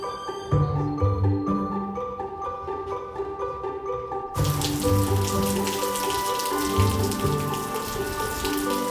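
Rain begins falling in Mystic, Connecticut, pattering on surfaces under a bright musical backdrop, then abruptly swells into a dense, loud downpour that keeps drumming steadily to the end.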